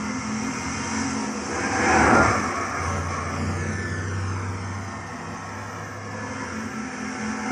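A 1970 Plymouth AAR Cuda 340 Six Barrel at full throttle on the Nordschleife in Gran Turismo 6 gives a steady droning engine roar that swells briefly, then holds a sustained tone with a low rumble underneath.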